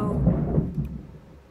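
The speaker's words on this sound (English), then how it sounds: "I know that just sounded like thunder." Low rumbling thunder rolls for a moment and fades away, fairly loud with no talking.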